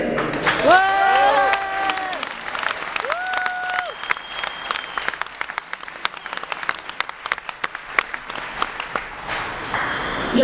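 Audience applause at a lecture on education and freedom, a dense steady clatter of many hands filling the hall, with brief melodic tones and a voice at the start.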